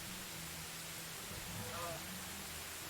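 Steady rain falls in Medieval Dynasty as a soft, even hiss that continues throughout at low level, with a faint murmur of voice partway through.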